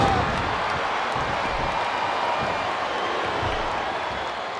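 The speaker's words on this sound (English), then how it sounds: "Sounds like this crowd's got something on their minds" Arena crowd noise from the WWE SmackDown vs. Raw 2007 video game, a steady, dense roar of murmuring and cheering spectators that holds at an even level throughout with no clear voices on top.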